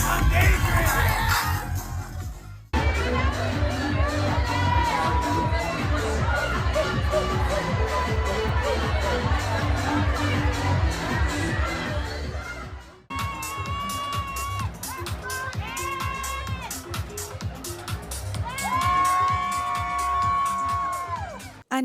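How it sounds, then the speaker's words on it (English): Loud cheering and shouting from a crowd at a DJ set after a Paris haute couture show, sustained for the whole stretch over booming dance music, with a brief dip in the middle before the noise picks up again. "the crowd is still hype"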